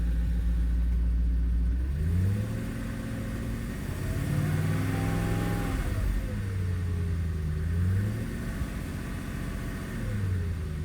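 A cold BMW E34 540i Touring V8 engine revs up and down several times, rising and falling smoothly from a low idle, close by and alone.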